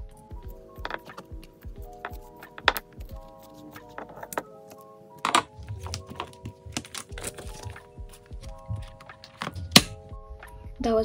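Scissors cut a page out of a photocard binder, giving repeated crisp snips and clicks mixed with plastic sleeves crinkling and small thunks, close and irregular.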